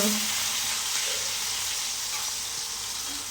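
Onion sautéing in a pan, a loud, steady, close sizzle with a bright hiss that fades slightly over a few seconds, no pauses.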